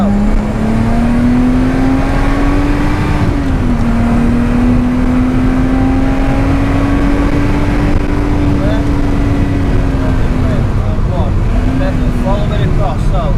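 A race car laps Oulton Park, its engine holding a loud, close, unbroken drone whose pitch sags and climbs slightly as the throttle is eased and fed back in.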